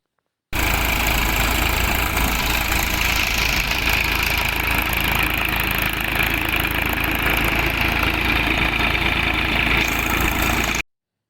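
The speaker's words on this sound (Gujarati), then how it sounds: "ટ્રેક્ટરને ભારે લોડ પડે" A tractor engine runs hard under heavy load while driving a cumin thresher beside a dam, a loud, steady, dense mechanical roar with broadband rattling that holds unbroken from start to finish.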